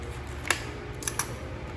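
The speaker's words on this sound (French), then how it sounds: "Prendre nos ciseaux." Scissors snip sharply at a package of Danish blue cheese in a kitchen, three brief crisp clicks spaced apart against a quiet room hum.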